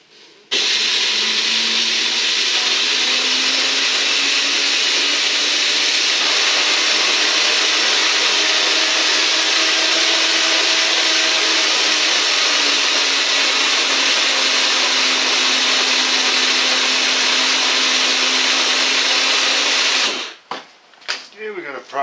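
Electric motors from a Power Wheels ride-on toy run on a 24-volt system with gear reduction, giving a loud continuous high whir that holds steady for about twenty seconds before cutting off.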